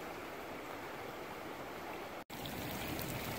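Piute Creek in the Sierra Nevada rushes steadily along a trail crossing, a close, continuous broadband wash of flowing water with no voices and only a momentary dropout.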